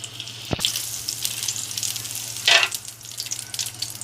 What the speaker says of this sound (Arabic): الزيت كده سخن معايا، هننزل بايه، بمعلقه زبده